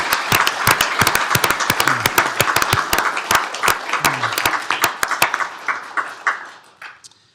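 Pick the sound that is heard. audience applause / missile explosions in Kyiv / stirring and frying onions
audience applause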